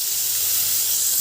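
Onion and chili frying in a pan make a loud, constant hiss with a steamy texture, close and unbroken from start to finish.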